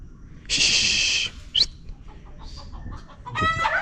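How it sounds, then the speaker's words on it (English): Chickens cluck and squawk close by at a community site, a loud drawn-out squawk, then a brief call, softer clucks and a closing burst of rapid clucking. "Chicken are the biggest threat."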